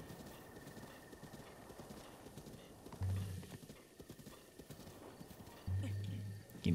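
A horse gallops in the video game The Legend of Zelda: Breath of the Wild, its rapid rhythmic hoofbeats steady and close throughout, with a short neigh or snort near the middle and again toward the end.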